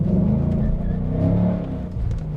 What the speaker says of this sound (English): I let out the clutch and did a burnout.